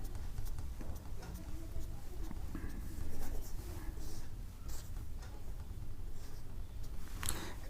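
A pen scratches steadily across paper while writing labels on a graph chart, a close, continuous rapid scribbling texture with small taps, lasting throughout.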